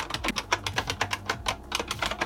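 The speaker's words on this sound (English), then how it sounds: "It's called a buckling spring keyboard." Rapid, loud clacking of keys on a buckling spring mechanical keyboard, a steady stream of crisp clicks with no talking.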